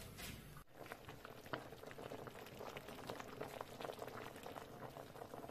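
A pot of cabbage rolls bubbles at a vigorous boil on high heat, with continuous close popping and gurgling after a brief bump at the start.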